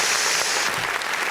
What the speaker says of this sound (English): Let's give a round of applause for that final word